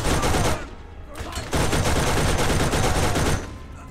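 A mounted gun fires in rapid sustained bursts in the video game Borderlands, loud and dense, with a short pause before the fire resumes and then stops.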